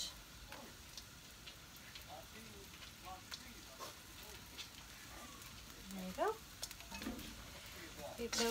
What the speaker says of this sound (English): So that's bubbling quite nicely.